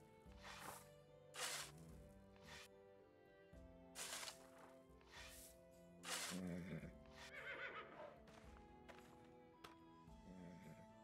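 A horse in the video game Life is Feudal: Your Own whinnies several times in short bursts over background music, with faint hoof sounds in between.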